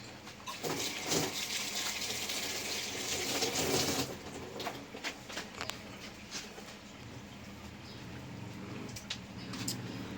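Water splashes and trickles steadily, with wet rustling and patter as leaves are rinsed under running water, close by and fairly soft.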